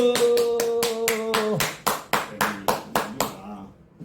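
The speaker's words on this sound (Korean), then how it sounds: "박수!" An audience at a lecture claps in a series of sharp, evenly spaced beats, starting under a sustained voiced tone that then drops away, leaving the crisp rhythmic claps to fade out.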